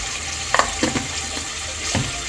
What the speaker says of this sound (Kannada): ಚೆನ್ನಾಗಿ ಚಟಪಟ ಅಂತ ಸಿಡಿಬೇಕು